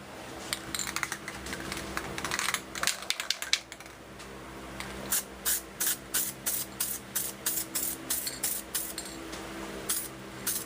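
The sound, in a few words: spray gun applying automotive base coat paint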